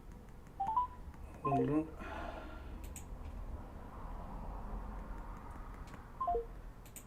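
Short bursts of telephone keypad tones dial out in quick clusters, with a voice speaking briefly over a steady background hum and another few tones near the end.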